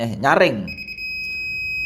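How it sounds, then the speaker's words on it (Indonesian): An electronic buzzer on an RFID access-control module sounds for a denied tag while a red LED lights, a loud steady high-pitched tone held after a brief spoken word. "lampu LED merah akan menyala dan buzzer juga akan menyala secara nyaring."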